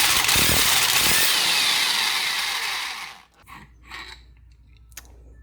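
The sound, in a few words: impact wrench loosening bolt on car mount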